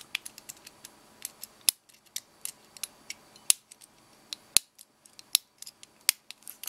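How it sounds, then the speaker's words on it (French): Lock pins click and snap free as a lock is picked, a close series of sharp, irregular metallic ticks with a few louder snaps, in an otherwise quiet room. "on entend mes goupilles qui se débloquent"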